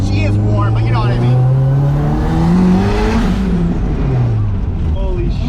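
An SR20-swapped Mazda Miata revs up close while warming, the engine note climbing steadily, holding high, then falling back to idle, loud and alone.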